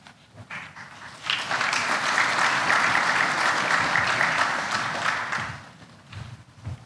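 Applause from a graduation ceremony audience swells after a short pause, holds as a steady, moderately loud sustained clapping for several seconds, then thins out and fades.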